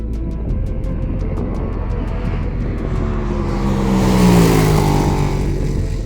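Ducati Panigale V2 S motorcycle twin-cylinder engine blipped at idle, revving steadily with a swell of higher revs near the end, loud and close with no talk.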